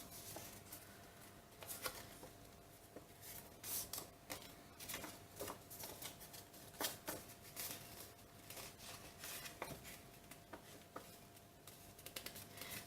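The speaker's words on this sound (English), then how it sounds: "I'm now just going to fold on all my score lines." Paper pockets are folded along score lines, giving soft crinkling and sharp creasing snaps in an irregular rhythm, faint and close-up with no talking.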